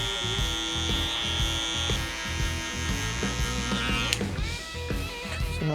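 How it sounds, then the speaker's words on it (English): An electric hair trimmer buzzing steadily while touching up a mid drop fade, a close, continuous motor hum that changes tone as it moves against the hair. "You can always go back to your trimmer and just touch it up a little bit."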